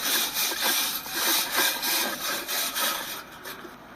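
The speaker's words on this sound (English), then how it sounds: "I got my stainless steel wire brush." A stainless steel wire brush scrubs rust and loose paint off an old grill in a rhythmic series of close, harsh back-and-forth scraping strokes, steady for about three seconds before easing off.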